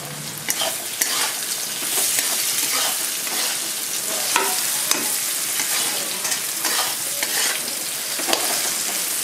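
Capsicum and mushrooms frying in a pan for chilli mushroom, a loud continuous sizzle with frequent scraping stirs and occasional clinks of the spatula.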